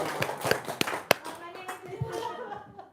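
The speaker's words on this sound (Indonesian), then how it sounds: "Pak, tepuk tangannya kencang apa Pak?" A man claps his hands loudly several times in sharp, uneven strikes, with voices talking nearby between the claps.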